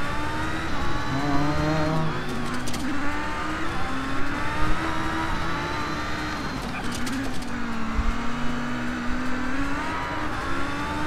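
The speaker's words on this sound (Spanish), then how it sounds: "¿Cómo suena Fórmula 3, eh?" A Formula 3 race car in the Race Driver GRID video game drives with a loud, continuous engine whine that climbs and falls as it revs through gear changes, with bursts of road and tire noise.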